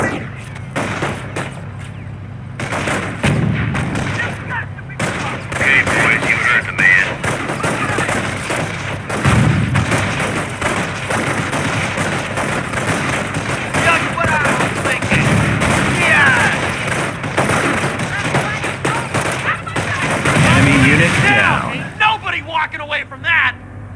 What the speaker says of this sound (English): base is under enemy fire